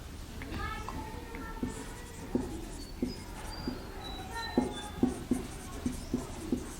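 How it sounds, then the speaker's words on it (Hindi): Pen writing out an algebra factorization solution: repeated short scratchy strokes tapping and sliding across paper at a steady pace, close and fairly quiet, under a background of spoken explanation. "यहाँ पे हम लिख देते हैं"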